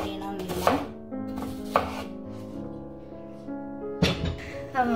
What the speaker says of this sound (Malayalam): അപ്പം സവോളയൊക്കെ ഫൈനായിട്ട് അരിയണമെന്നില്ല.